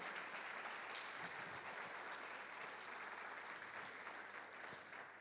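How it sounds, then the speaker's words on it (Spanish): A church congregation applauds in a steady, dense wash of clapping that holds evenly for several seconds, faint and somewhat distant, tapering slightly at the end. "¿Querés darle un aplauso al Rey?"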